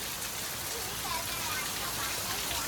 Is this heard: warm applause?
no